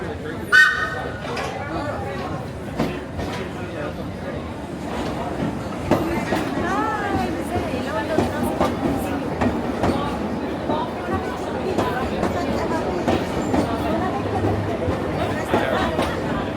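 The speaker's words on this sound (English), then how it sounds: "let us admire our train roll into the station" A 1938 stock London Underground train arrives on the Piccadilly Line, rumbling and clattering as it rolls into the station over about sixteen seconds, with screeching, squealing brakes and rail clicks under platform chatter and nearby voices.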